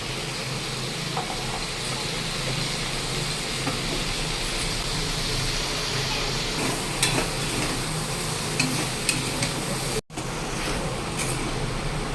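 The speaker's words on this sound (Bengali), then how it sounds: "আর এখানে হচ্ছে আলু পটল ভাজা, মা রান্না করছে" Potatoes and pointed gourd frying in a pan, a steady, even sizzle and hiss that holds loud and close throughout, broken only by a brief dropout near the end, with no talk.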